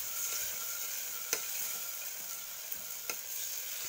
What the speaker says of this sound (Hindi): चावलों को हिलाते रहें